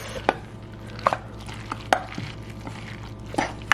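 Jerky meat tossed and mixed in a bowl with spices and Worcestershire sauce, giving several sharp wet slaps and knocks at irregular intervals over a low steady background hum, close and alone.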